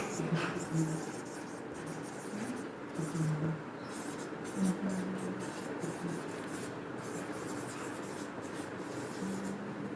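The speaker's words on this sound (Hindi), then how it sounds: "इसको हम लिखेंगे" A pen scratches steadily across paper as notes are written, close and continuous beneath a voice speaking throughout.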